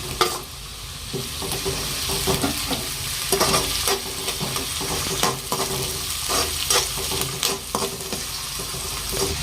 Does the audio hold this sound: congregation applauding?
no